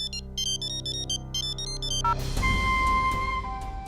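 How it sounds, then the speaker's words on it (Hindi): A phone ringtone plays a bright, repeating electronic melody in short bursts, then gives way to a louder, noisier rumble with lingering tones. "किसका फोन है? वही संजना का, बार बार परेशान कर रही है"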